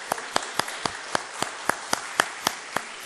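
A church congregation gives a pastor a welcoming round of applause, heard as a sparse, steady rhythm of individual sharp claps, roughly three or four per second, fairly close and moderately loud.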